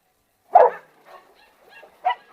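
Cane Corso and Rottweiler dogs bark indoors: one loud close bark, then quieter yips and growly barks, and a further sharp bark near the end.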